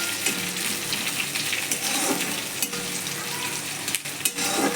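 Onion, garlic and green chilies fry in hot oil in a pan, a loud, busy crackle and sizzle broken by scraping stirs, with no talking.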